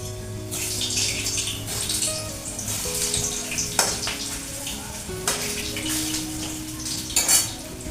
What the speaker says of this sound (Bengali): তেলটা গরম হয়ে গেছে, এই যে আলু কেটে রেখেছি, আমি আলুগুলো একটু ভেজে নিই।